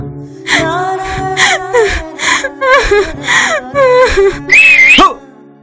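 A person whistles a string of short, sliding tonal notes in uneven bursts, close and fairly loud, ending on a higher, brighter note.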